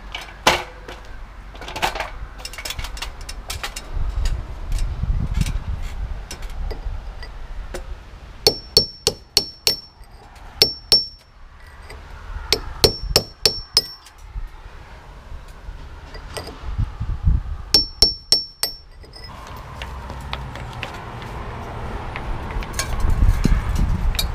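Hammer blows on a chisel chipping out bricks while repairing a hole in a brick wall, coming as sharp metallic strikes in quick bursts of several hits, loud and close, with pauses and scraping in between.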